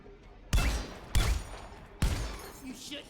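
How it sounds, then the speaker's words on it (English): An engineer's sentry gun fires in the video game Deep Rock Galactic: three sharp, loud bursts at uneven intervals, each trailing off briefly. "I should automatically shoot anything that shows up."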